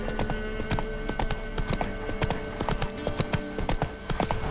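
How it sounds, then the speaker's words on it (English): Horse hooves in The Witcher 3 clip-clop in a steady rapid rhythm of loud, close thuds over continuous game ambience, with no talking. "El caballo está como cansado porque no corre."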